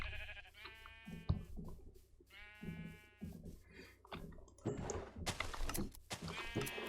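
Several sheep bleat in repeated wavering calls, nearby, over a low steady hum and scattered clunks, with a brief murmur of voice near the end.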